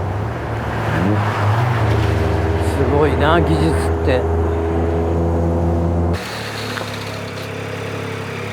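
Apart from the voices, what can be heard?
hydrogen engine car revving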